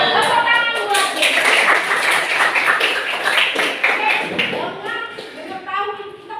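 Classroom applause for a student who answered correctly, a burst of many hands clapping densely and steadily for several seconds, fairly close, with faint voices mixed in.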